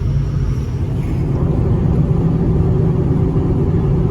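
A racing truck's 6.0 diesel engine idles steadily nearby in Centerville, Tennessee, giving a loud, continuous low rumble with no change in pace.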